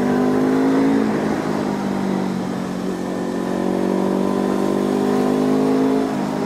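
Honda CL500 parallel-twin motorcycle exhaust droning at steady speed on a mountain pass, with engine pitch dipping and rising as it shifts, loud and close, no voices.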